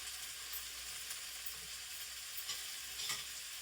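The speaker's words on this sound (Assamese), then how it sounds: "কোমোৰাৰ আগ কাটি লৈছোঁ মিহিকৈ। এই কোমোৰাৰ আগটো দি দিলোঁ," Finely chopped pumpkin shoots frying in a pan, giving a soft continuous sizzle with light stirring scrapes, quiet and close, with no talking.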